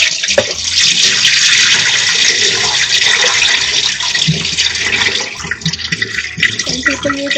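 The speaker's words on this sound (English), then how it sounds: "we're washing the rice." Water runs and splashes continuously as rice is rinsed by hand, a close, busy gush with scrubbing swishes and small clatters, growing choppier toward the end.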